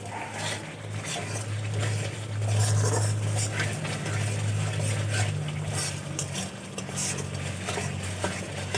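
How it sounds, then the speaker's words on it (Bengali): Spices with salt being sautéed and stirred in a pan for an egg and cauliflower curry: a steady frying sizzle with scraping stir strokes over a low hum, continuous and moderately loud. "এভাবে খুব ভালো করে কষিয়ে নিতে হবে মশলা।"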